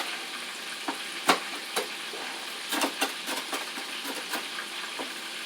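Chicken frying in a pan over reduced heat, a steady soft sizzle broken by scattered sharp crackles and pops, close and moderately quiet.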